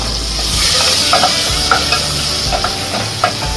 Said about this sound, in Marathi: आपण दोन स्पून तेल घेतलं कढईमध्ये त्याच्यात कारल्याच्या बिया टाकल्या